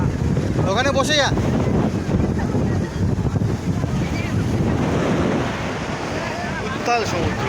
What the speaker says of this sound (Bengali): উত্তাল সমুদ্র।